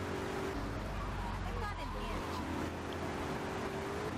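A car drives through Portland in the video game GTA III on its way back to the factory, a steady low engine drone running throughout.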